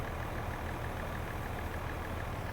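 A diesel tractor engine idling at a steady, even drone in the Farming Simulator 22 game, with no talking over it.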